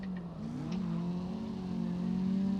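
Toyota AE86 Hachi-Roku engine in the CarX Drift Racing Online game, revving steadily with a rising then sustained tonal drone, loud and continuous, with a brief pitch shift from a downshift early on.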